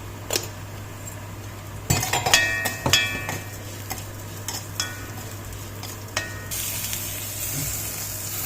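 Onion sizzles softly as it browns in a pan while a utensil stirs and scrapes, with a few clinks against the cookware.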